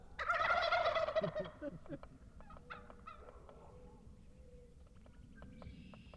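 Wild turkeys in South Dakota gobble loudly in a burst at the start, followed by fainter chirps and distant bird calls in an outdoor setting.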